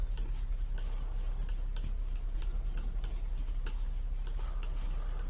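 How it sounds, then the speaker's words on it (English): Prussian blue and raw sienna acrylic paint being mixed together, a soft, steady wet scraping with rapid rhythmic ticks and taps of the brush or knife against the palette, close and fairly quiet. "Prussian blue and a bit of raw sienna, roughly about the same amount. And we mix that together."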